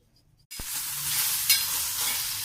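Cut local tomatoes dropped into a hot pan to roast, a sudden close burst of loud sizzling after a brief quiet moment, continuing steadily with a slight swell midway, no talking.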